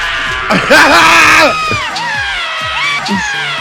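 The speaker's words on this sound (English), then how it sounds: "You heard that double scream there?" Excited people let out a loud double scream among a cheering crowd, with shouting and whoops close by.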